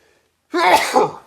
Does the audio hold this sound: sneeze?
yes